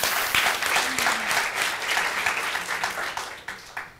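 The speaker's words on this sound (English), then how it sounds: "Another applause" A lecture audience breaks into loud, close, sustained clapping that holds steady for several seconds, then thins out into a few last scattered claps.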